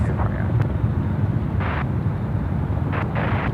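Aircraft departing Sydney Airport: a loud, steady low jet roar that fills the whole stretch without letup, with faint voices in the background.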